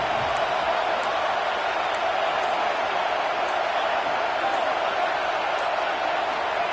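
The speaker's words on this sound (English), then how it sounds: "This crowd unhinged, trying to make sure the Gators don't back down on third down." A stadium crowd in the College Football 26 video game roars steadily as a dense, continuous wall of cheering during a Florida Gators versus Tennessee Vols game on third down, loud and unbroken throughout.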